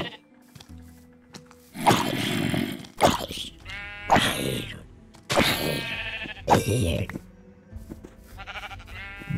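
Sheep in the Minecraft video game give several loud, wavering bleats in sequence, close and clear, with quieter game sounds between them.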